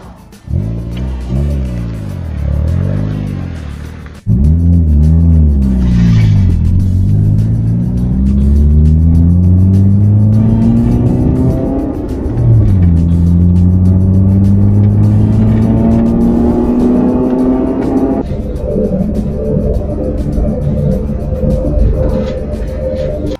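A Honda CR-Z hybrid car driving on the street, loud close engine droning from the cabin as it accelerates through gears with rising and falling pitch, a brief pause early on, and no speech.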